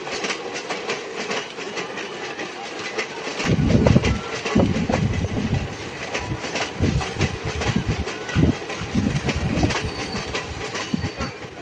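A local passenger train on the Katwa–Azimganj line rolls along its rails near Miyagram station, with a steady broadband rumble and loud, rhythmic clickety-clack bursts of wheels over rail joints throughout.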